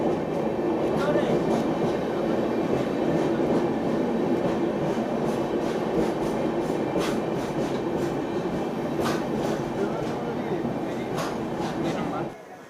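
A passenger train with sleeper-class coaches pulls out of New Alipurduar station, wheels rumbling and clattering steadily over the rails with faint rhythmic clicks, loud and close from inside a carriage.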